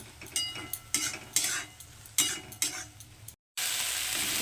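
Taro flowers fry in a small amount of oil, with a steady sizzle and repeated scraping strokes of a spatula. A brief silent break comes near the end before the hiss resumes, louder.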